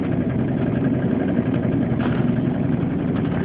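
A 1990 Volvo 760 Turbo idles after a cold start at 6 degrees in 2.5 feet of snow, with a steady, loud, close engine drone and a slightly uneven pulse, noted as having a bad timing issue.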